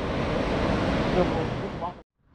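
Pacific Ocean waves at Playas de Tijuana beach make a loud, continuous roaring wash with wind-like rush, which stops abruptly near the end.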